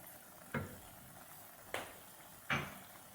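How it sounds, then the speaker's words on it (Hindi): Peas being stirred into mixed vegetables in a pan, with three distinct scraping stirs spaced about a second apart over a faint steady sizzle, close and quiet with no voices. "इसको भी अच्छी तरह मिक्स कर लेंगे।"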